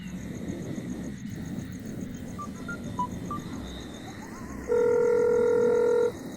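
A telephone being dialed: a few short keypad tones in a quiet room, then a steady ringback tone held for over a second, with faint background hiss.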